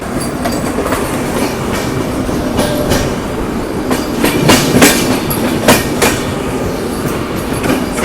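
The Andhra Pradesh Express rolls steadily along the tracks, loud and close, with rhythmic clickety-clack of wheels over rail joints and occasional sharp clanks.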